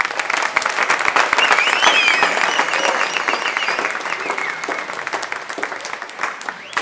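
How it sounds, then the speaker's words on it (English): Audience applause at a university vice-chancellor inauguration ceremony, a steady sustained wash of many hands clapping in a large hall, loud at first and gradually easing. "Let's give the Vice-Chancellor another round of applause."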